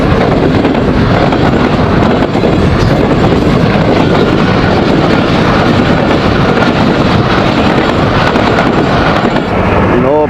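Pakistan Railways Business Express hauled by a locomotive passes close by, a loud, continuous roar and rumble of wheels and wagons filling the whole stretch with steady clatter and wind buffeting.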